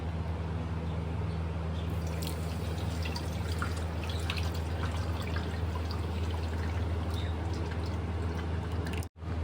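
Continuous watery trickling and dripping as ground rice batter is strained with water, running steadily with a low mechanical hum underneath.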